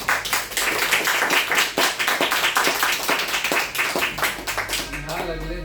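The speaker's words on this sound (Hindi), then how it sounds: "तालियां।" Audience clapping at a sales team training session, a lively, fairly close burst of many hands with a loosely rhythmic pattern, fading at the end as a voice begins to speak.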